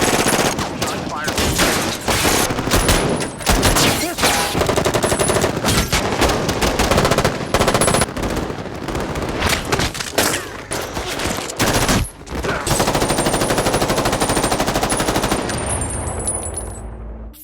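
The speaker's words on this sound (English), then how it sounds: "LAPD arrives and the street erupts in gunfire" Sustained bursts of automatic assault rifle fire, loud and continuous with overlapping shots and echoes, in an intense street shootout between bank robbers and LAPD officers, with some shouting mixed in.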